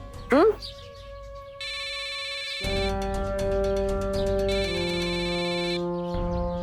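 An electronic musical ringtone plays a repeating melodic pattern of bright tones, steady and fairly close, stopping near the end.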